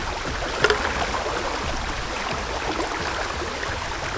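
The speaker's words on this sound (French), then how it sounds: "On croit que c'est le bruit de la rivière." Someone swimming quietly in a river current at night in a forest, with a steady, soft rush and wash of moving water throughout and one small splash early on.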